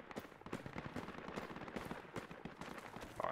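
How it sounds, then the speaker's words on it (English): Gunfire from the video game Project Reality rattles in the distance and at mid range, with scattered irregular bursts and single shots, fairly faint and continuous, with no talk over it. "there's a lot of random gunfire"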